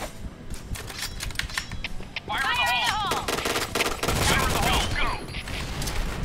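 Rapid automatic gunfire in the online shooter Point Blank, bursts of dense cracking shots with game effects and keyboard clatter, loud and close, with a voice talking at times.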